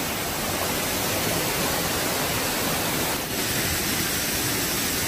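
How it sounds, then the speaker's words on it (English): Steady, dense roar of rushing water from a waterfall, broadband and constant, filling the whole clip with no voices. "We are at the top of the waterfall."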